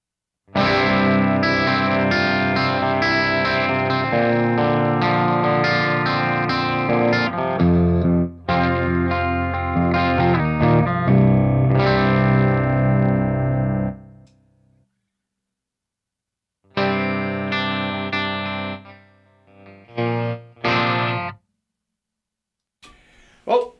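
A 2023 PRS Mark Holcomb electric guitar played through a clean amp, strummed chords ringing with a light shimmer, stopping abruptly, then a few shorter bursts after a pause.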